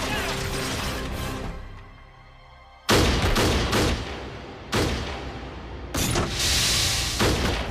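Gunfire in a Hollywood action movie, several loud bursts of shots and crashes rising sharply against a tense background, with voices shouting between them.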